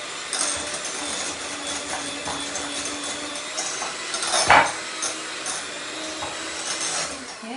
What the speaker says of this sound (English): I'm going to mix it with a hand mixer.